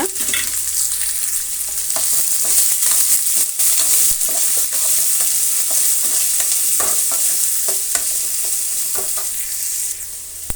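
Finely chopped green beans and potatoes fry in a pan for rice bath, a loud steady sizzle broken by repeated scraping and clacking of a spoon stirring, with no voices.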